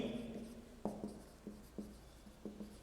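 Quiet pen-on-surface writing strokes, a series of short scratchy marks in an irregular rhythm, close and faint with no talk.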